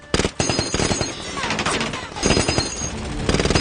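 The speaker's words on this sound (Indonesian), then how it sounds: "para tamu menembak tempat itu secara membabi buta" Dense, rapid automatic gunfire from guests shooting blindly in a film scene, loud close bursts that rattle almost continuously, with some voices mixed in.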